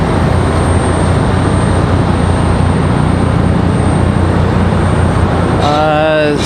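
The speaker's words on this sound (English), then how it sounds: "Looks like they're cleared for takeoff." A Southwest airliner takes off at Raleigh-Durham International, filling the air with a loud, steady jet-engine roar that holds evenly throughout, with a rising whine entering near the end.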